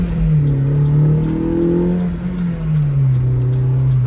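A K-swapped Honda Civic accelerates hard, its engine droning loudly up through the revs with a steady rising tone heard from inside the car, dipping briefly as it shifts before pulling again.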